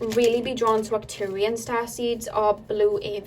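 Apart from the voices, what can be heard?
No distinct noise like a dog, phone or traffic.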